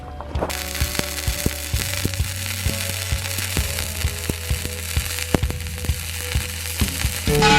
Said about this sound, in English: so we just finished welding this cart